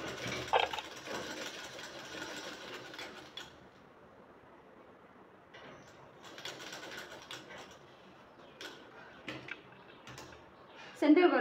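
A sewing machine stitches a folded shirt seam in short bursts separated by quiet pauses, with a voice talking between runs.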